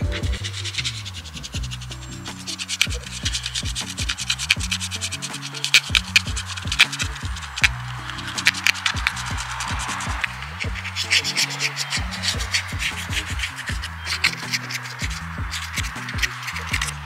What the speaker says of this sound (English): he just scratches off the paint,